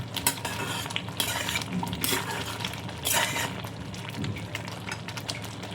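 A mango jelly candy mixture is stirred steadily in a pan, a dense close scraping of the spoon with bursts of clinking against the metal, constant and fairly loud, with nobody talking.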